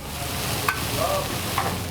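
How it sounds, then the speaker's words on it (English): Steady close sizzling of burger patties and bacon frying on a hot surface, with a couple of faint metallic scrapes from a utensil. "I was loving all the sizzle action that was happening here"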